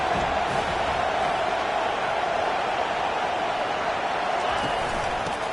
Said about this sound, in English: This crowd rising up, sensing that its defense needs some help.